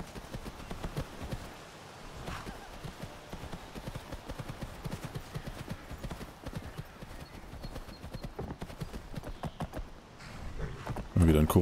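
Horse hooves clip-clop at a steady trot in the video game Skyrim, close and continuous, with a soft whinny-like burst near the end; someone talks over parts of it.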